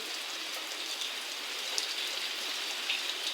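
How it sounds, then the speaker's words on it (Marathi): Steady, dense rain pours down in a continuous hiss during a storm with strong wind, scattered drops pattering nearby and no voices. "विजा वारा आणि पाऊस तीनही एकत्र झालेले आहे तर भरपूर पाऊस आहे"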